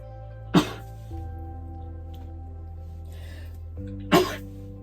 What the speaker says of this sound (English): the soil's making me sneeze